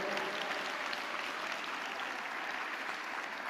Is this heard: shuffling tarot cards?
no